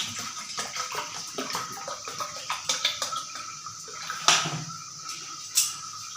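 A few spoonfuls of water are poured into a grinder jar while tamarind water for gupchup is being made, giving close, splashy pours with a couple of sharp clattering spikes and no talking.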